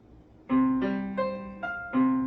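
A keyboard plays a quick sequence of sustained notes, one after another, clear and moderately quiet with no voices.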